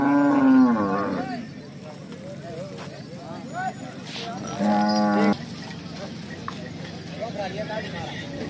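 Bullocks low and moo at a busy livestock market, one loud nearby call opening the scene and another strong moo midway, with people bargaining and talking throughout.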